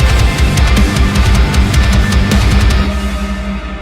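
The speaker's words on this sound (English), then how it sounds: "I am using Archetype Nolly specifically for these guitar tones" A heavily distorted electric guitar played through the Archetype Nolly amp plugin chugs in dense, loud palm-muted riffs with thick low end, ringing out near the end.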